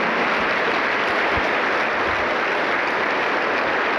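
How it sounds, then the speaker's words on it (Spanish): Dense, continuous applause from a Pentecostal church congregation, loud and evenly sustained like a wash of many hands clapping together with no voices standing out. "Aplausos contentos para el Señor Jesucristo."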